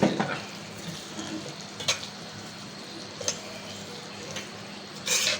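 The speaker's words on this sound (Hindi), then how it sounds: "दोस्तों अब मैं इसमें डालूंगी ये सूजी।" Semolina added to a pan and stirred, with soft scraping and a few sharp clicks of the spoon at intervals over a low frying hiss, close and quiet with no talk.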